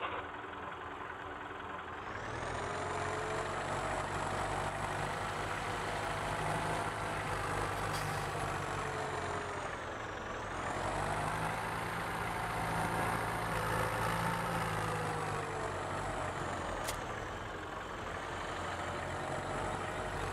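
A 40-20 tractor in Farming Simulator 17 runs with a steady, loud engine drone that rises slightly and dips twice, with no talk over it.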